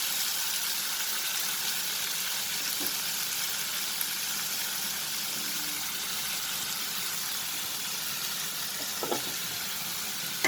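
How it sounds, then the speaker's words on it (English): Onion, tomatoes, capsicum and green chilies sauteing in a pan for paneer paratha filling, a steady soft sizzle with faint stirring scrapes throughout, no talking. "Let's saute it for a minute"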